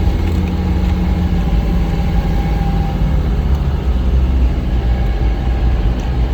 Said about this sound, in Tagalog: Hirap na ang makina.